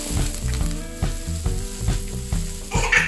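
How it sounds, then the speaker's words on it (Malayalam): Two medium chopped onions fry in a tablespoon of oil for momo masala, a loud close sizzle broken by rhythmic scraping strokes of a spatula roughly every half second. "രണ്ട് മീഡിയം സവാള ചെറുതാക്കി ചോപ്പ് ചെയ്തിട്ട് ഇട്ട് കൊടുക്കുക."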